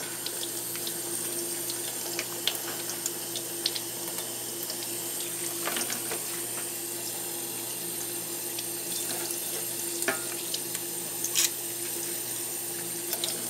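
Water runs steadily from a tap, rinsing out an ink cartridge from a sublimation ink system, a continuous splashing hiss with occasional small clinks, no voices.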